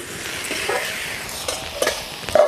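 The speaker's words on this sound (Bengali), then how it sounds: "এই যে বাঁধাকপিগুলো একটু ভালো করে নাড়াচাড়া করে দিই।" Cabbage is stirred in a cooking pot over a soft steady sizzle, with a few sharp scrapes and knocks of the spoon against the pot growing louder toward the end.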